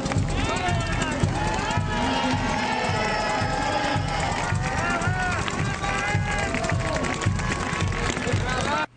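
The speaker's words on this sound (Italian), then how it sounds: "Il boato del pubblico" Roaring, cheering crowd at a celebration in a town square in Cortina, a loud sustained wall of voices and shouts with rhythmic low thumps underneath.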